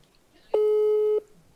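A single telephone busy-signal tone sounds after a call is placed, a clean steady beep lasting about half a second, fairly loud against near silence.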